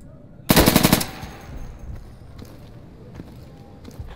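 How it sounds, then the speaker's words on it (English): A loud, rapid burst of gunfire lasts about half a second in a competitive multiplayer shooter video game. Quieter scattered clicks and footstep-like taps follow. "he shot me right away"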